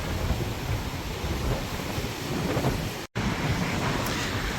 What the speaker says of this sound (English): Should have much stronger waves this evening than yesterday because of all this wind.